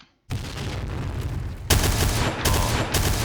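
A Noveske N4 rifle fires in the shooter video game Point Blank, with a sustained burst of rapid automatic shots that grows louder and continues in dense, punchy volleys after a short silence at the start.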